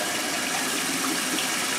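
Tap water gushing steadily from a faucet into a basin for rinsing after a shave, loud and close, a continuous even rush with no pauses or voices.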